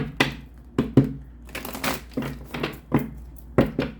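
Crisp, papery bursts of tarot cards being shuffled, several quick riffles and taps in an irregular rhythm, close up with no talking.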